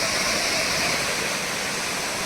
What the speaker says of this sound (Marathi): ट्विन फॉल्सला येतो दोन छोटे धबधबेत पाणी कमी आहे